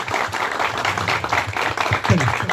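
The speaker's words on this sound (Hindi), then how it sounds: "सम्मानित कीजिए। हाँ दो तालियां।" An audience claps at an honoring ceremony for a Jharkhand student, a steady patter of applause with murmuring voices mixed underneath.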